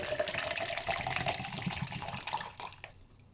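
Water from a tender fresh coconut is poured out in a steady, close splashing stream that runs for about three seconds before tapering off.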